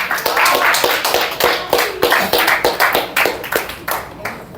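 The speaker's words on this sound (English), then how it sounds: "Round of applause for that." Rhythmic group clapping at a Toastmasters speech meeting, loud and close, with claps landing together in a steady beat that slows and thins toward the end.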